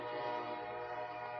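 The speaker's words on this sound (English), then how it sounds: "Let's wait for the train to come through." A passing train heard outdoors, a sustained tonal horn-like blare with a rumbling undertone held steadily for the whole short stretch, fairly prominent and with no talk over it.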